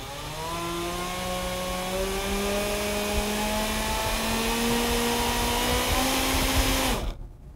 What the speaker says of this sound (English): the RPMs are climbing and falling as I am applying and releasing the